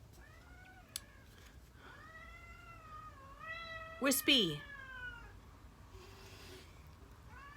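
A pet cat meows repeatedly indoors, several drawn-out, rising and falling cries close by, with a person speaking quietly between them and a louder cry near the middle.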